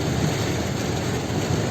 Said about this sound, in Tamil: ஹெவி ரெயின் ஸ்டார்ட் ஆயிடுச்சு.